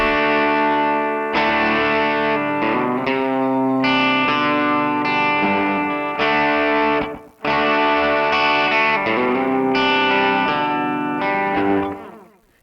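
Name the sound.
electric guitar through Yamaha THR10ii preset with tape echo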